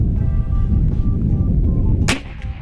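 A .50 calibre big-bore PCP air rifle fires once, a loud, sharp crack that stands out over a constant rumbling background.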